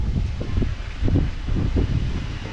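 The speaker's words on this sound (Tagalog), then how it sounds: "Yes, mahangin siya." Steady wind blowing on a high terrace, rumbling and gusting against the microphone in low, buffeting surges.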